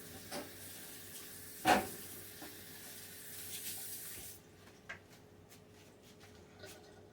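Water runs from a kitchen sink tap as bleach water is prepared during home cooking, a steady hiss that cuts off partway, followed by a few light clinks and knocks.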